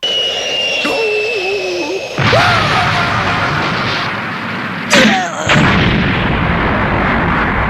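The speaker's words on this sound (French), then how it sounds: "ça se termine sur une grenade qu'il a lâchement envoyée à Goku, sauf que ce dernier lui renvoie dans les airs, ça lui pète à la tronche" A grenade explodes in a Dragon Ball anime fight, a loud burst followed by roaring, rumbling blasts and whooshing effects, with a second sharp explosion midway and sustained noise throughout; no voices.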